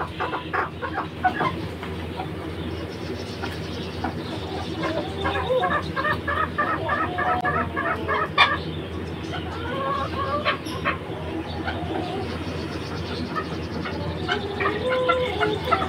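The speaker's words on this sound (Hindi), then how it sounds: "ये हमारे पास मस्कती चकोर है, देसी मस्कती" Desi Muscati chukar partridges kept in a rooftop bird setup cluck and chatter in repeated bursts at close range, with someone talking over the birds the whole time.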